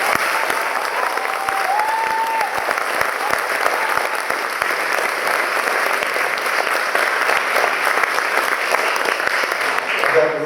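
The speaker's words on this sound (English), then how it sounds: "Let's give them a huge round of applause." An audience in St Michael's Church, Telford, applauds the Magic Voices Choir after a December 2024 performance, sustained loud clapping lasting about ten seconds with a brief tonal sound early on.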